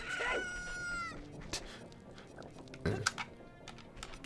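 A chicken crows in an Ocarina of Time game after an egg hatches, one short high crowing call at the start, followed by faint scattered clicks and a low background hum.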